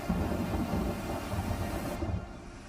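Thunder rumbles steadily over heavy rain during a storm in Dubai, a deep continuous roll lasting throughout with no voices, easing off slightly near the end.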